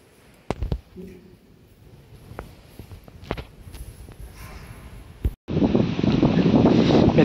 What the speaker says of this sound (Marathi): बापरे काय जोरात वारा आलाय, खतरनाक